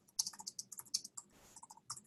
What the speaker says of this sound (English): I can actually send things back over this connection by just typing in this form